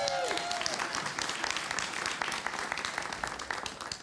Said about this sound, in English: I'll ask you to hold your applause until the end